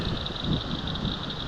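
Strong wind blows outdoors at a lakeside bass-fishing spot, a steady broadband rush and buffet with a thin high whine running throughout, close and continuous with no talking.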